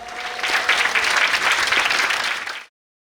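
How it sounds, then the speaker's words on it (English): Audience applause on a youth leadership competition show in Ghana: a dense, steady wash of many hands clapping at full loudness, then cutting off abruptly near the end. "we also like a round of applause"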